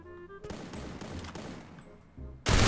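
Automatic gunfire from an MP5 submachine gun in a shooter video game, sustained bursts of rattling shots with a louder, denser burst at the end.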